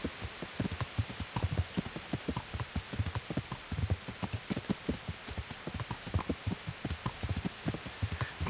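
Rain in the medieval video game Kingdom Come: Deliverance, a continuous hiss of rainfall under the rhythmic clip-clop of a horse's hooves, steady and fairly close throughout.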